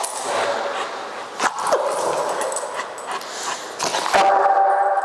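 A Rottweiler whimpers and yips intermittently over steady background noise, with a few sharper sounds breaking through.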